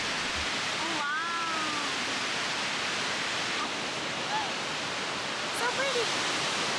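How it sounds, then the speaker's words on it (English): Rainbow Falls at Mammoth Lakes roars as a steady, broad rush of falling water, constant and enveloping, with brief voices and bird-like chirps faintly over it. "We were so happy to finally see the waterfall"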